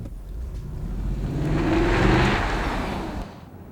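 An Audi V8 quattro drives past with a steady engine hum and road noise that swells toward the middle and then fades, heard without talking.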